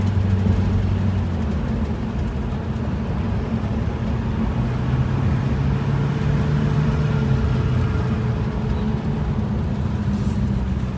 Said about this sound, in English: Like an early morning drive in a beautiful classic Mustang.